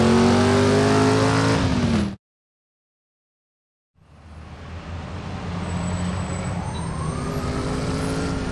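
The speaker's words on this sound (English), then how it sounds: "That ambulance. It's the only thing that's moving." An ambulance siren wails in the Driver: San Francisco video game, loud with engine rumble, cuts to total silence for about two seconds, then returns with a rising tone over traffic noise.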